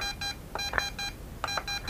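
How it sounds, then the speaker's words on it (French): A Bugs 3 mini RC car remote control gives short, bright electronic beeps in quick, evenly spaced bursts, loud and close, with no talking. "Deux bips, c'est vitesse."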